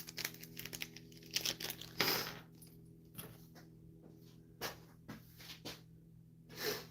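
Small plastic baggies are ripped open by hand in a few crinkly, tearing bursts, each short and close, with quieter rustling in between and a low steady hum underneath.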